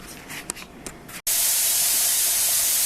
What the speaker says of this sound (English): now my canner has been venting a steady stream of steam for 10 minutes